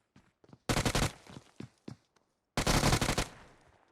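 Automatic gunfire in the mobile battle royale game PUBG Mobile, two loud sustained bursts separated by a few single sharp shots, close and dominant with almost no talk.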